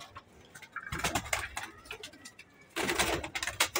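Pigeons coo softly at a pigeon keeper's loft, low murmuring calls rising in two clusters with some faint rustling and scuffling between them, fairly quiet and with no talking.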